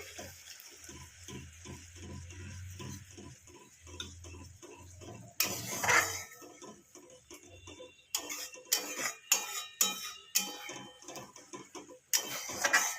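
Curry with sour yogurt and green chillies stirred steadily in a pan for meethi katla, a soft rhythmic scraping and sizzle, close and moderately quiet, with sharper clatters of the spoon toward the end.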